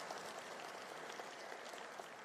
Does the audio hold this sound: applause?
yes